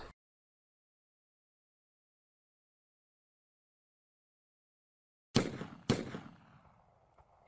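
Long silence broken by two sharp gunshot bursts in quick succession, each ringing out with a short decaying tail.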